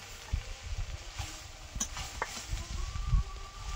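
Leafy greens fry in a pan on a home stove, a soft steady sizzle broken by a few scraping stirs and light clinks, close and quiet with no talk.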